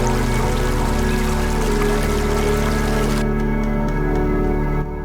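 A stream in the Philippines pours continuously at a steady, fairly loud level, with a constant low rushing underneath.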